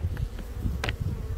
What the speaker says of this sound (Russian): такая вот пчелочка, она спокойная, ничего, нормально